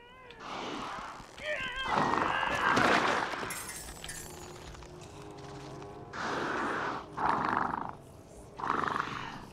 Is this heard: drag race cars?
no